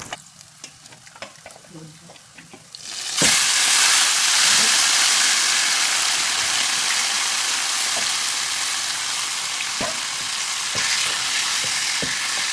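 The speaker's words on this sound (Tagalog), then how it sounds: "igisa ko na yung marinate na pork guys" Marinated pork hits a hot pan for pork adobo with pineapple and bursts into loud, steady sizzling, with occasional stirring scrapes over the continuous hiss.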